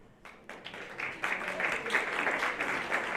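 Audience at a community health forum in Winthrop breaks into applause, a dense patter of many hands that swells after a sparse start and holds steady at moderate loudness in an indoor hall.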